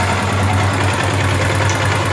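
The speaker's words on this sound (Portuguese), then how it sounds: "Vem aqui, liga a moto, tá?" A Honda Falcon motorcycle engine idles steadily and close by after being started, giving a continuous low rumble with no speech.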